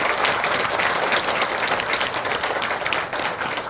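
Loud, close applause fills the room at a women's alumni association gathering, a dense, sustained wall of many hands clapping that barely dips before easing slightly at the end.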